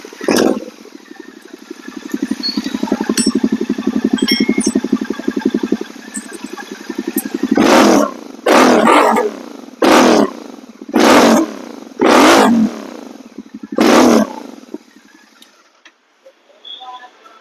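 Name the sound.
GT 650 motorcycle revving with Red Rooster exhaust silencers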